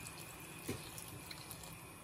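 Hot water runs steadily from a kitchen tap, a constant soft hiss with a small splash near the start.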